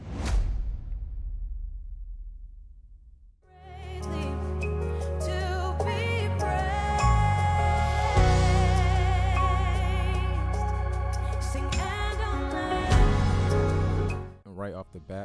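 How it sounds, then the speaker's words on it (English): A song-transition impact hit: a sharp burst near the start decays over about three seconds, then a full, loud produced music passage plays through to a cutoff near the end, with no voices. "and then for the impact, I'm using this sound."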